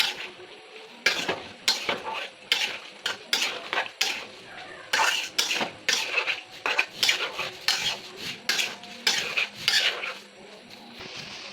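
Elephant apple (chalta) pickle with spices and panch phoron stirred in a pan, with repeated scraping and clanking strokes of a spoon against metal in an irregular rhythm, close and fairly loud, with no talking.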